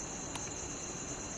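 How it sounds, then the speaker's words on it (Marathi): Crickets chirp outdoors at night in a village, a steady high-pitched trill that stays constant and moderately faint over a quiet background, with no talking. "शांत आहे बघा. रातकिड्यांचा आवाज येतो आहे"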